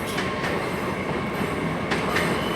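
A Class 802 train departing London Paddington station gives a loud, steady rolling rumble with a couple of soft clicks from the wheels passing over rail joints.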